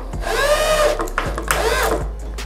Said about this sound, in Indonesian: kalau teman-teman nyekrup menggunakan bor